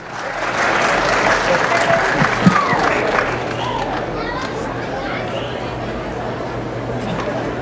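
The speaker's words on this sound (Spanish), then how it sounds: "Y le damos el aplauso cariñoso de todos ustedes para recibirlo." Audience applause at an unreleased-song contest in Ocotlán, Jalisco, greeting a participant from Guadalajara: steady, dense clapping spread across a crowd for several seconds, with light chatter mixed in.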